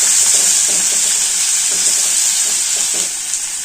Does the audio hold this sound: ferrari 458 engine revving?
no